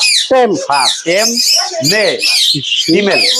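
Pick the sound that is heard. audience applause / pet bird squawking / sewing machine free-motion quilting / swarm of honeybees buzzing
pet bird squawking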